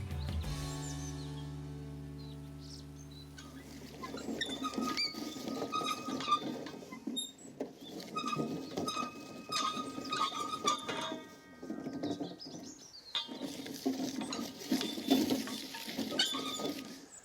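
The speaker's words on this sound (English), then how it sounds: "This implement is called a scratter. And what it's doing is chopping up apples." A scratter chopping up a mixture of windfall apples, a busy close clatter of crunching, squeaking and knocking with irregular bursts, after a short low hum at the start.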